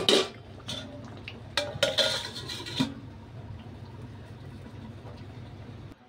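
Ground garam masala goes into a pot of chicken curry and a lid is set on top, making several sharp metallic clinks and clatters of pot and utensil early on, followed by a quiet simmering background.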